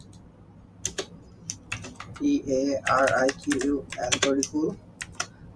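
A name being typed on a computer keyboard for a visiting card design: a run of sharp, close key clicks in quick irregular bursts, with someone talking over most of them.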